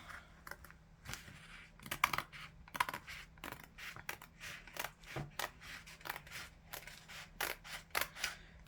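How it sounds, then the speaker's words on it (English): Scissors trim the edge of a canvas in a string of crisp, close snips, each one a short sharp cut, coming irregularly and steadily with brief pauses between them. "just going to go ahead and try to trim a little bit more of this edge off"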